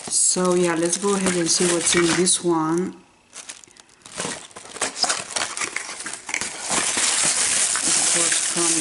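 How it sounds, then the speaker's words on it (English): Paper packaging from a Tarte mini makeup haul crinkles and tears loudly in close, busy bursts, while someone talks over the start of the rustling. "Of course comes in the paper, and I do apologize for the noise"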